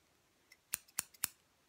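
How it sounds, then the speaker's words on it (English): Scissors snip through real hair during an ASMR haircut, three crisp close-up cuts in a steady rhythm after a faint lighter click, with no talking. "keeping my comb and taking my scissors,"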